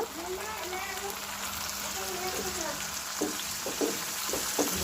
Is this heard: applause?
no